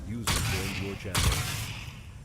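An electric weapon firing in Crysis 3, two crackling bursts about a second apart, each a sharp buzzing discharge that fades out, fairly close.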